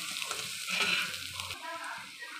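Red chillies fry in hot oil in a home kitchen, a soft steady sizzle with a brief louder stir of crackling midway, faint overall and heard alone.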